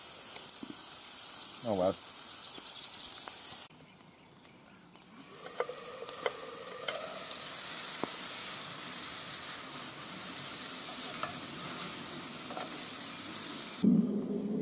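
Meatballs frying in oil that is too hot hiss and sputter in a pan at a woodland campsite, the sizzle rising and falling with short breaks, while someone speaks briefly over it.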